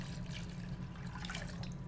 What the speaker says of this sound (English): So you're gonna pour that into your punch.